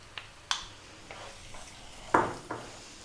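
Tomato paste being stirred in a pan over low heat for chicken curry, with a few separate soft clinks and scrapes of a utensil against the pan, faint and close, set against quiet room hiss.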